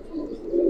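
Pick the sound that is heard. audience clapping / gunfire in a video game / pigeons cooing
pigeons cooing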